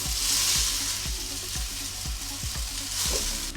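Noodles frying in plenty of oil for soy sauce chow mein, a loud continuous sizzle with a regular series of low knocks roughly every half second, close up and without talk.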